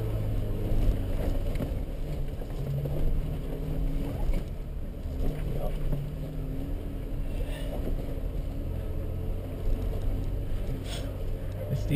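Off-road vehicle driving through deep water on a trail, its engine held at a steady low rumble amid continuous sloshing and churning, fairly close and without a break.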